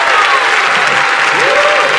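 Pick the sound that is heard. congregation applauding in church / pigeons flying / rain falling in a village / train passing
congregation applauding in church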